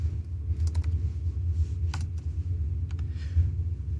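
Quick, light keystrokes on a computer keyboard, a loose run of crisp clicks over a low background hum, close and fairly quiet.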